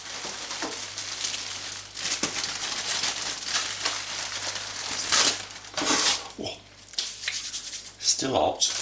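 Pulled pork cooked on a Kamado grill is unwrapped, with close crinkling and rustling of the wrap in uneven bursts. Someone talks over it now and then.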